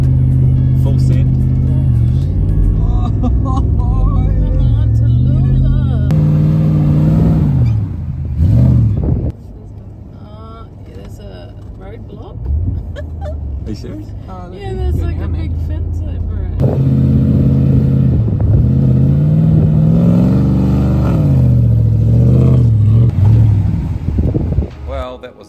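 A four-wheel drive revving hard on sand dunes on North Stradbroke Island, its engine droning loud and steady with rising and falling pitch, briefly easing off midway before surging again, with talk over parts of it.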